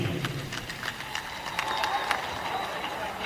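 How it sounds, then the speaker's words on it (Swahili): An audience applauds to welcome guests entering at a Madaraka Day event, a steady patter of clapping with crowd murmur throughout. "Tuwapigie makofi wakiingia."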